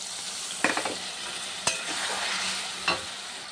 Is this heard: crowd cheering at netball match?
no